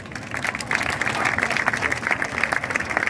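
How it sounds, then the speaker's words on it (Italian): An audience applauds steadily at a fashion show during the Vele d'Epoca vintage sailing event in Imperia, a dense wash of many hands clapping at moderate volume throughout. "Per loro vi chiedo un altro applauso."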